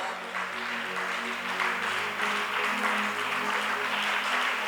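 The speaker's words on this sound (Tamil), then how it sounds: "சத்தமா நல்ல கைத்தட்டி கர்த்தரை ஸ்தோத்திரம் பண்ணுங்க." A congregation claps steadily in praise at a fasting prayer meeting, the dense clapping continuous throughout alongside sustained tones from music.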